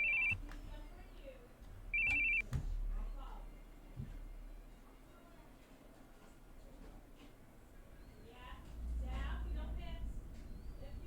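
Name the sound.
phone call ringing in video game The Boogie Man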